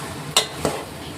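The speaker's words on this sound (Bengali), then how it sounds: "সে ভিন্ডি কষছে, ভিন্ডি কষো।" Okra (bhindi) is stir-fried in a pan by a boy, heard as two quick metallic clinks of the spoon against the pan over a faint background sizzle.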